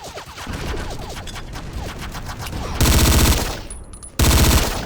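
Rapid bursts of automatic gunfire from a Battlefield video game set in the Yugoslav wars, with loud sustained volleys and short gaps, alone without talk.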